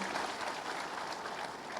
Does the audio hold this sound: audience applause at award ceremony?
yes